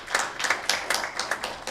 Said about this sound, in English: Let's give it a hand clap.